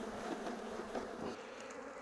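Honey bees swarming around an opened beehive give off a dense, steady buzzing that stays loud and close for the whole stretch, with small swells but no voices.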